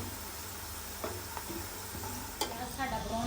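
Onions browning in a pan at a home village kitchen, with a steady low sizzle and a few sharp clinks and scrapes of stirring scattered through, close and moderately loud, no talk.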